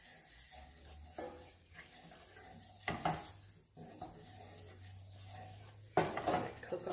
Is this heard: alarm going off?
no